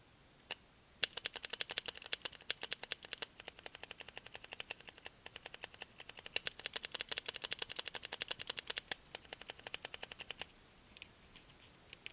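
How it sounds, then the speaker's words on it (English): Rapid, close clicking from a Ragnok GunMouse computer mouse as its buttons and scroll wheel are worked, dozens of crisp ticks in quick irregular runs against a quiet background. "do a quick sound test so you can hear how both the scroll wheel and the mouse 1 and 2 sound"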